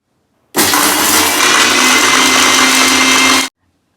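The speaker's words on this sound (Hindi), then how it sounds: "अब हम इसे ग्राइंड कर लेंगे।" Mixer grinder whirring as it grinds roasted whole biryani masala spices including cardamom, a loud steady motor roar starting abruptly and cutting off after about three seconds.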